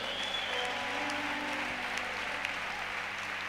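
Congregation applauding the Lord during a church service, a dense steady wash of clapping from many hands that holds at an even level throughout, with no voices standing out.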